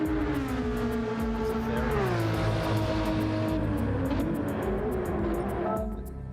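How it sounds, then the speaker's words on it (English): A race car in a racing video game screams along at high revs, its loud engine note sweeping up and down through gear changes on the Sardegna circuit, steady and close with no talk. "it sounds like an incredible car for sure as well"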